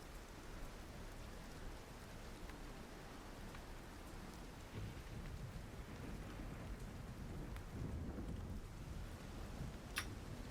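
Thunderstorm sound effect for a tabletop fantasy game: steady, dense rain hiss with low rumbling thunder rolling beneath, continuous and fairly quiet, with a faint sharp crack near the end and no voices.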